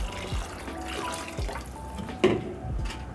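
Water runs steadily into a pot of rice, a continuous splashing pour with a brief louder splash midway and a few light knocks.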